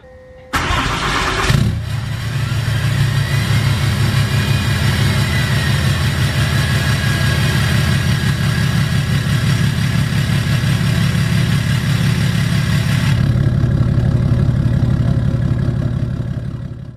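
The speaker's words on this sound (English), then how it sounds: "pull the truck out" Truck engine starting, then idling steadily and loud up close with a throbbing low rumble for most of its length, easing slightly at the end.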